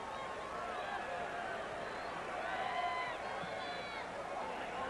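Large wrestling arena crowd at a 1988 Hercules versus Brutus Beefcake match, a steady roaring wash of cheering and whistles that swells slightly midway, with a commentator talking over it throughout.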